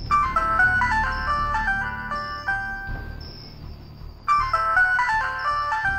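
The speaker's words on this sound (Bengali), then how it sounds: "বিছানার পাশে রাখা ফোনটা তীব্র স্বরে বেজে উঠল" A phone ringtone plays a bright, repeating electronic melody in loud bursts, pausing briefly around the middle before starting again, with no voices over it, set in a bedside scene in the middle of the night.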